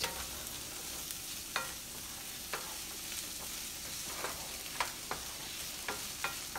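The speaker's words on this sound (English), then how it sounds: "I will saute this for another minute with the tomato." Diced tomato sautéing with riced cauliflower in a pan gives a steady low sizzle broken by sharp, regular scrapes and taps of a stirring utensil, close and fairly quiet, with no talking.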